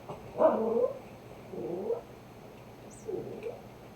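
A cat makes three short, low growling yowls separated by pauses, fairly quiet and close, with nothing else around.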